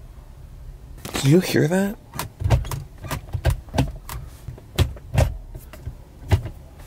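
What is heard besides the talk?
BMW E36 Coolerworx self-centering shifter moved into neutral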